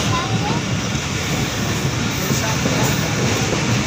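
The 48 Down Rehman Baba Express passenger train running, heard from aboard as a loud, constant rumbling roar with faint rail noise, approaching Patidhan station.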